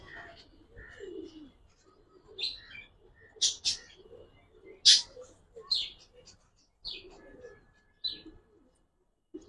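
A female pigeon coos in soft, low bursts mixed with brief sharper chirps, fairly close and intermittent, with people talking quietly nearby.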